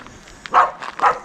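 Next door's dogs barking at a distance, two short muffled woofs in quick succession.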